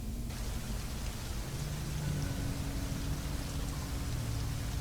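Heavy rain pours onto a flooded road at night in Iguatu, Brazil, captured by a security camera: a dense, steady hiss of downpour with a low rumble underneath, constant throughout and with no voices.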